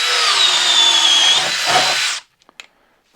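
A DeWalt XR drill/driver spins a 1/2-inch Bosch Daredevil spade bit through wood, a steady loud whine for about two seconds that stops abruptly, followed by a few faint clicks and taps.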